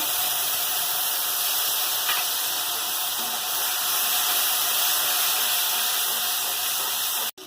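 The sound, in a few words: garlic paste and spices sizzling in hot oil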